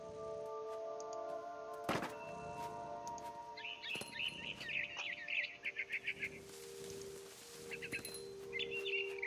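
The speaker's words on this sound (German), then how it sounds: "I tried to be quiet, but the bird was really scared." Small bird chirps in the video game What Remains of Edith Finch, rapid bursts of bright tweets in quiet scene alongside soft thunks and tonal game sounds, fairly faint.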